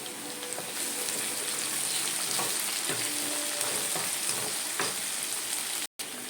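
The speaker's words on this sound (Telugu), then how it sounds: "ఆనియన్స్ ఫ్రై అయినాయి ఇప్పుడు ఇందులో కొత్తిమీర వేసేసుకోవాలి" Onions frying in a pan as coriander goes in, a loud continuous hiss and sizzle with a few faint stirring clicks, close up and without speech.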